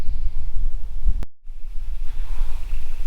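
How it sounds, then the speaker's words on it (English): Wind gusts and buffets a microphone outdoors in a backyard in midwinter, a steady low rumble with a brief drop-out before the blustery noise resumes. "Wind's got a real chill in it too"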